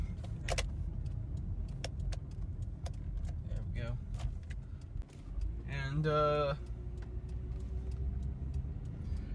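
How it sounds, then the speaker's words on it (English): A van being driven, heard from inside the cab as a low steady engine and road rumble, with scattered ticks and clicks, a brief mechanical whine and someone speaking briefly over it. "right now I'm just driving a van"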